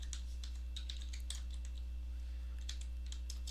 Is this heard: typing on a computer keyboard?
yes